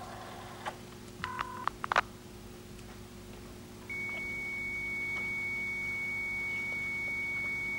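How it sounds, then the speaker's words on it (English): A computer modem connecting over a telephone line: a few clicks and short dial-tone beeps, then a steady high-pitched carrier whine with rough buzzy noise that holds continuously for several seconds, fairly quiet and unaccompanied by speech. "that's the sound of the computer at the other end, talking over the telephone"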